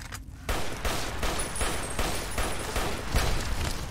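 Rapid gunfire from the video game Fallout: New Vegas, a fast run of loud, closely spaced shots going on for several seconds.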